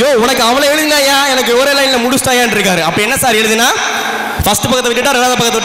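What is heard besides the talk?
None of the usual background noises is heard.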